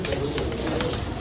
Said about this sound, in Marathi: या साईडला बघा मित्रांनो, उडाणाची कबूतर आहेत सर्व